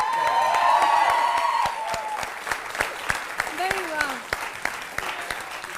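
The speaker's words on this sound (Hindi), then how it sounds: "एक बार आप सब अपने लिए एक बार ताली" An audience at a televised Hindi poetry contest breaks into applause mixed with a voice over it. The clapping starts dense, then thins into scattered individual claps.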